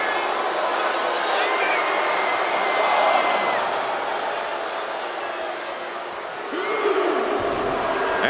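A WWE SmackDown wrestling arena crowd roars and cheers steadily throughout, a broad wash of voices that swells briefly then surges again near the end, with a commentator's voice partly audible over it.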